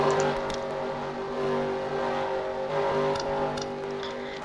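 Race trucks at Daytona roaring past in a tight pack, a loud, steady engine drone with a rising and falling whine as they speed by.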